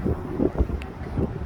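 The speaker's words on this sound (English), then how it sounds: "Oh, it's really windy." Gusts of wind buffeting the microphone, low and uneven rumbling bursts, close and moderately loud.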